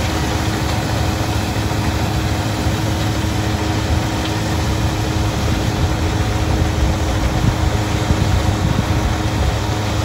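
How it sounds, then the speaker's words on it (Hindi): A tractor engine idles with no load during a demonstration of a 2021 Jagatjit straw reaper, a steady, loud, unbroken drone with a rough low rumble throughout and no voices. "ट्रैक्टर एन बिना लोड पे चल रहे"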